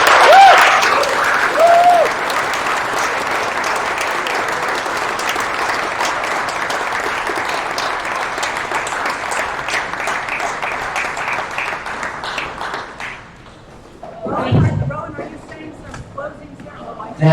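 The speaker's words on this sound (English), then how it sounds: "Let's give our panelists one more round of applause." A conference audience applauds its panelists in a sustained, even burst of clapping that stops abruptly, followed by brief handling noise and a voice starting to speak.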